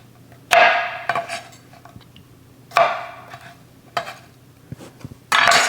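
Beef short ribs being stirred in a pot for smoked competition-style Asian short ribs, giving several separate bursts of metallic clanking and scraping with quiet pauses between them, close and fairly loud, no talking.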